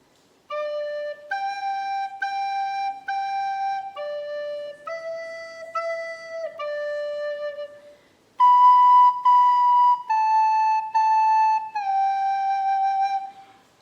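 Old Macdonald Had a Farm picked out slowly as a clear, pure-toned melody, each sustained note separated by a short gap, with a brief pause before a second, louder phrase that begins on the low D.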